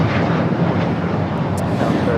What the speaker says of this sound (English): 615 taking off to Cancun, Mexico on the 737-800